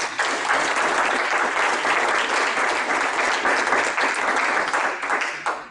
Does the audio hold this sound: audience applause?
yes